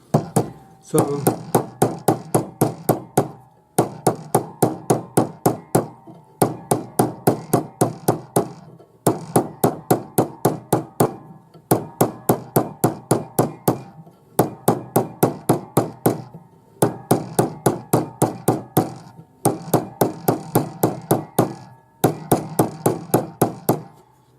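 Repeated hammer blows on metal while forming a hollow bangle, struck in steady rapid bursts of about a dozen sharp close strikes with brief pauses between groups.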